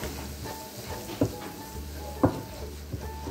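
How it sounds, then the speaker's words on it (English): A whisk stirs flour into sausage gravy made with evaporated milk and bottled water in a pan, a soft continuous scraping and sizzle broken by a few sharp clinks against the metal pan. "Get this all stirred up here."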